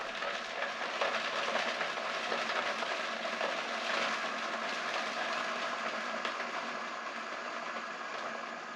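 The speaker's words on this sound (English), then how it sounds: "Allow the ice to break down before increasing the speed." A Vitamix blender crushes ice at low speed, a steady dense grinding and rattling roar that holds evenly throughout, close and fairly loud.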